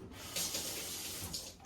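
Two cups of water run from a tap while making sourdough bread, a close, bright hissing stream that surges after a brief quiet start and keeps flowing steadily.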